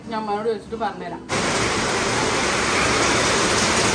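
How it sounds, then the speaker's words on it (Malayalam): Heavy rain pours down at a family home in Kerala, a loud, steady, dense roar that sets in abruptly after a short spoken line and continues without pause. "നല്ല അടിപൊളി മഴ."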